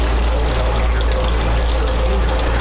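Wort for a pumpkin ale pours steadily into a fast fermenter, a continuous loud rushing splash of liquid filling the vessel with no break.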